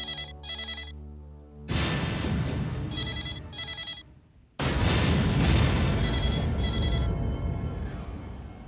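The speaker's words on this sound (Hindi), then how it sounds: "Come on, pick up the phone" Telephone ringing in repeated bursts of electronic ring tone, with loud dramatic music swelling underneath and surging heavily partway through.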